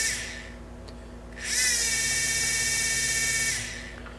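An automotive generator powered from a battery spins its pulley with a high, steady electric whine that rises abruptly, holds for about two seconds, then fades, heard alone over a low background hum.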